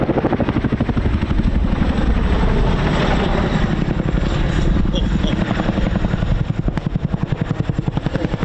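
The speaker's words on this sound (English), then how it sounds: "He's running in for the Chinook Display Team's famous manoeuvre, the roller coaster." A Chinook helicopter flies a display manoeuvre at the RIAT 2023 airshow at RAF Fairford, its twin rotors giving a loud, steady, deep blade-slap chop that stays close and continuous throughout.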